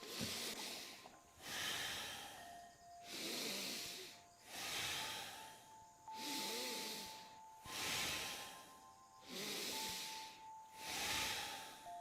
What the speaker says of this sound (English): Exhale, inhale, exhale, continue.